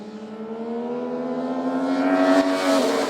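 A 2025 Yamaha R9 sport motorcycle laps a race track just after rain, its engine holding a steady, rising whine under load as revs climb, loud and continuous with a brief dip near the end.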